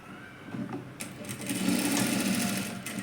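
A sewing machine stitches blouse fabric with its lining in short runs, a close, steady mechanical whir that starts and stops, then settles into a longer continuous burst.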